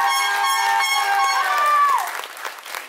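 Audience applause at a Lady and Lord pageant evening in Réunion as the ninth candidate is called up, fairly loud with a sustained horn-like tone running over it, fading toward the end.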